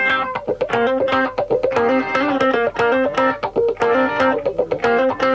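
Layered studio guitars, a funky rhythm part through a wah-wah pedal interlocking with palm-muted staccato chugs, loud and close in a tight, busy groove.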